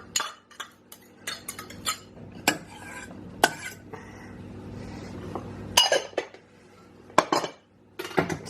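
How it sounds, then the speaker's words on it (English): A metal whisk clinks and scrapes against a pan as a knob of butter heats for a white sauce, with irregular close clatters and stirring knocks in a home kitchen. "take a good knob of butter, get that heated on a pan, and then use this kind of whisk"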